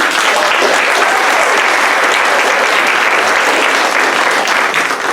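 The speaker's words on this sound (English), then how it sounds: "Can we get a round of applause for everybody?" Loud, dense applause from an audience at a queer arts community event with Palenke Arts in Seaside, California, a continuous roar of clapping hands that holds steady for several seconds, near and full.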